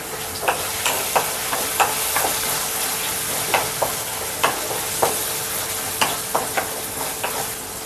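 Curry leaves and turmeric sizzle steadily in hot oil in a pan for Andhra-style liver fry, with a spatula scraping and tapping in a regular rhythm.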